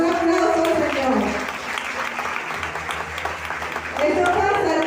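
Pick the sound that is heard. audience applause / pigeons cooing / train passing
audience applause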